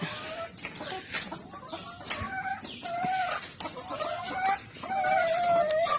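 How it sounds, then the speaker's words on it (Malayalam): Several backyard BV-380 hens cluck repeatedly nearby, their rhythmic calls overlapping against a faint hiss, with no talking. "കോഴികള്"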